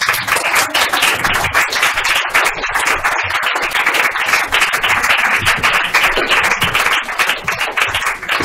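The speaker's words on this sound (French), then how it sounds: "ben applaudissez" An audience at an evening performance applauds, a dense, continuous patter of many hands clapping at close range, holding steady throughout without fading.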